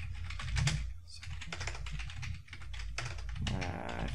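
Keys clatter on a computer keyboard in a quick, steady flurry of close taps, continuing throughout over a low background rumble.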